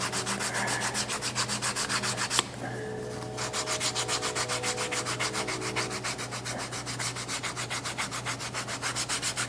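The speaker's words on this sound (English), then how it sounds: "So first I'm just gonna rough this up with the sandpaper a little bit." Sandpaper rubs back and forth over the edges of a leather tri-fold wallet in quick, even strokes, a close rhythmic scratchy rasp that pauses briefly before resuming, with no talk.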